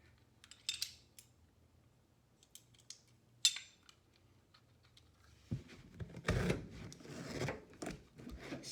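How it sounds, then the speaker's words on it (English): A carpet knife gets a fresh blade during a Berber carpet install in a bedroom: a few small, sharp metallic clicks and snaps, faint and close, followed by rougher scraping and rustling handling noise. "I'm going to change my blade again."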